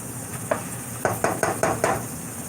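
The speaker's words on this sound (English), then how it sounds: "I'm gonna stir this ground beef up some" Ground beef sizzles steadily in a frying pan while a utensil stirs it in a series of short scraping pushes, about five strokes close together over a constant frying hiss.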